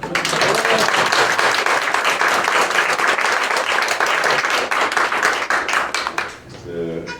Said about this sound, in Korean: 너무 기쁜데 박수 안 나옵니까?